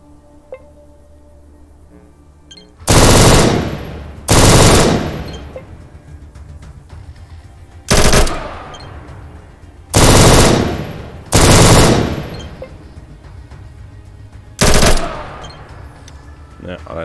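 Six loud, separate bursts of automatic gunfire from the ATOM RPG video game, each lasting about a second and spaced by short pauses, with no talk over them.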